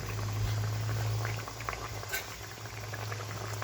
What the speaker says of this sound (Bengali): এবার চলো ভেজে রাখা মাছগুলো এক এক করে এর ভিতরে দিয়ে দেওয়া যাক।